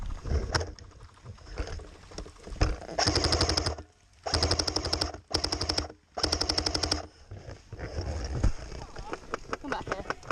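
Airsoft guns rattle in rapid automatic bursts during an outdoor skirmish in Nottingham, several sharp strings of shots close by, with players talking between them.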